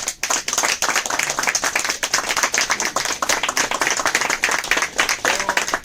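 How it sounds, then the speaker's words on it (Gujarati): A crowd at an indoor gathering in Ahmedabad applauds loudly and steadily, dense overlapping hand claps running without pause from start to finish. "તાળી પાડો ભાઈ જોરદાર"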